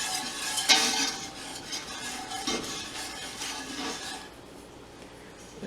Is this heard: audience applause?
no